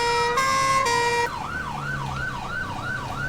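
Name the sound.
two-tone emergency vehicle siren in video game GTA V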